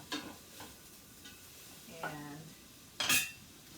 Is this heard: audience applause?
no